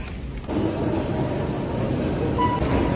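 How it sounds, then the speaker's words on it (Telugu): A metro train in a subway station in Georgia rumbles loudly and steadily after a short quieter lead-in, with a faint squeal near the end. "మెట్రోస్ ఎలా పనిచేస్తాయి చూద్దరు ఇప్పుడు"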